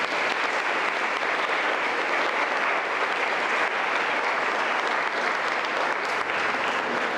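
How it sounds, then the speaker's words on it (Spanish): A church audience applauds steadily throughout, a dense, even wash of clapping at a certificate ceremony for communion and confirmation groups, with no break or pause. "Aplauso también."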